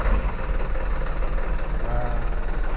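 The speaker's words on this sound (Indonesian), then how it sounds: "biarkan mesin bergerak secara stasioner" A Mitsubishi Canter turbo truck engine idles at low revs, a steady, continuous low rumble with a faint mechanical hum running evenly throughout.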